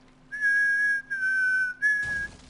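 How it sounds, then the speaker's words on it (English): A person whistles a wavering, tuneful tone in three sustained phrases with short gaps, close and clear, followed by a brief burst of noise at the end. "Really? You're gonna start whistling now?"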